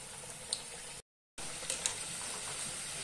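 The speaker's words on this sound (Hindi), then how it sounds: "जो बचे हुए कटलेट है उसे भी मैं डीप फ्राई कर लेती हूँ" Poha cutlets deep frying in hot oil, a soft continuous sizzle and bubbling with a brief cut of silence partway through.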